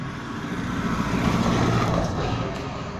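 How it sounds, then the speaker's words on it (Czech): Cars passing on a road during an outdoor walk, a steady broadband traffic roar that swells to a peak near the middle and then eases off, with no voices. "Auto dělají velký rámus."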